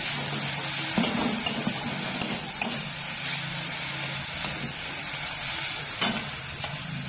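Mushrooms being sautéed with poppy seed paste, giving a steady frying hiss with faint scraping strokes of a spatula, close and continuous.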